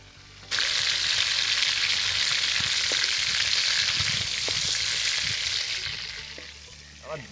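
Prawns hit hot oil in a wok with a sudden loud sizzle that holds steady, punctuated by occasional utensil taps, then eases toward the end.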